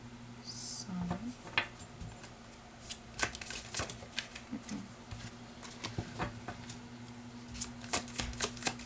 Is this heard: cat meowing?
no